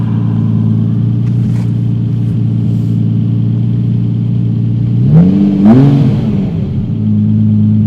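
A Lamborghini Diablo VT Roadster's naturally aspirated V12 idles with a loud, steady low rumble, then blips its throttle in two quick revs that rise and fall before settling back to idle.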